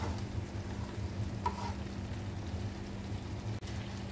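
Chicken kondattam cooks uncovered in a pan after releasing water, giving a soft steady sizzle and bubbling with a low hum, faint and continuous with no talk.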